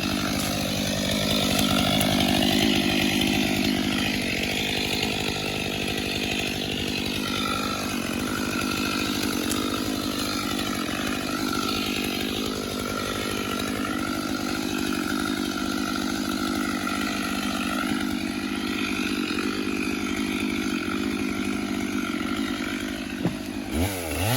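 A chainsaw on a family logging crew in Tennessee cuts through big poplar logs, a loud, close, continuous high-pitched engine whine that rises and falls slightly with the load over a long stretch, with no talking.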